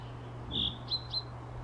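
A small tit bird in the Sally Face video game gives three thin, high chirps: one longer note followed by two short ones. The calls are clear but soft over a low steady hum.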